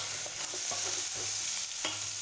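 Mango pieces with curry leaves stirred and frying in a pan for dal, a soft steady sizzle broken by several scraping spoon strokes, close and with no talking.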